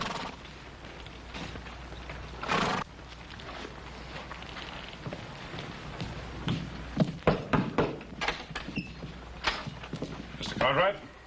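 Cavalry horses arrive and mill about on the ground, irregular hoof clops and thuds thickening toward the end, heard faintly under a low background hum with scattered movement.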